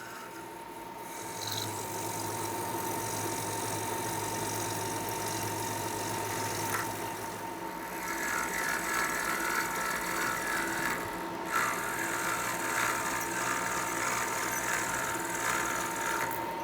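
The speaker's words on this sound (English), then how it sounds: "Now we're hollowing out the corners, leaving a space for the screws to attach." A milling cutter takes full-length cuts to hollow out the corners of a workpiece, producing a steady, moderately loud machining drone with a constant whine and a slight shift in texture midway.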